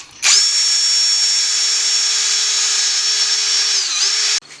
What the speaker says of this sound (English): now we got to drill a hole in the sump for the oil drain.